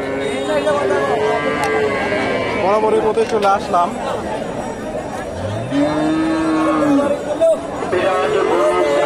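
Holstein Friesian cows and calves at the Hasokhali cattle market in Bogura give a drawn-out low moo midway through, set against crowd chatter and someone talking close by.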